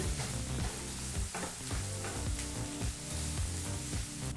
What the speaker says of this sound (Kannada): ಈರುಳ್ಳಿನ ಮತ್ತು ಮಿಕ್ಕೆಲ್ಲ ಪದಾರ್ಥನೂ ಮೂರರಿಂದ ನಾಲ್ಕು ನಿಮಿಷ ಚೆನ್ನಾಗಿ ಎಣ್ಣೆಯಲ್ಲಿ ಫ್ರೈ ಮಾಡ್ಕೋಬೇಕು